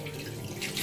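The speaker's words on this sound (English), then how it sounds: "So we pour it away." Spoiled homemade yogurt being poured away, a brief continuous liquid splash and trickle, close and fairly loud, with no voices.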